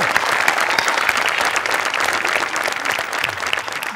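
Audience applause after a sung performance, a dense steady burst of many hands clapping for about four seconds, loud and continuous with no voices standing out.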